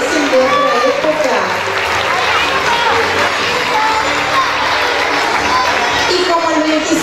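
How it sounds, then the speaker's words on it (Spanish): Sustained applause and crowd noise from an audience at a 25 de Mayo school commemorative act at Escuela 14, a dense, steady clapping wash filling the hall for several seconds with scattered voices mixed in. "¡Aplauso para ellos!"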